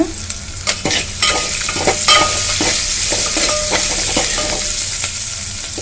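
Seasoning with turmeric fries in a pan for poha upma, a loud continuous sizzle broken by frequent clattering strokes of a stirring spoon.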